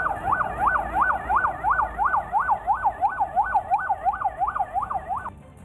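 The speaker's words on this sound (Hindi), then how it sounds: "शहर का कोना कोना पुलिस की गाड़ियों के सायरन से गूंजता सुनाई दिया।" Police car sirens wail through the city streets of Yangon in rapid, evenly repeating rising-falling cycles, loud and steady for about five seconds with no talk, then cut off.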